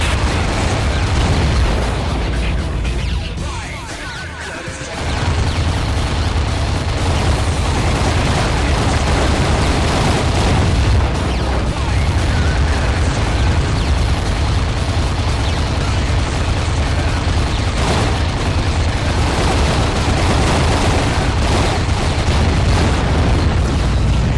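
Underwater combat in the Aquanox video game: booming explosions from a destroyed target, with a loud, dense roar that holds steady through the clip after a short dip.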